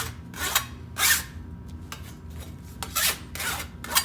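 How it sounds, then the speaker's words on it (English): A hand file rasps burrs off the edge of sheet metal in a run of about eight short, scratchy strokes at an uneven rhythm, close and fairly loud, with no voices. "take a file and get those burrs off like that quickly and pretty easily"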